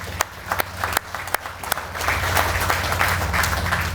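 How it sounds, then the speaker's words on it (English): Scattered claps start the applause at a groundbreaking ceremony for an agricultural export facility in Portsmouth, then a crowd joins in with dense, steady clapping that carries on to the end. "Let's give them a round of applause."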